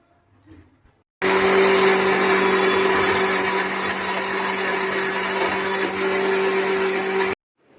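A mixer grinder grinds tomatoes and onions with a loud, steady motor whir that starts abruptly, runs for about six seconds without a break, then cuts off sharply. Quiet faint rustling comes before and after.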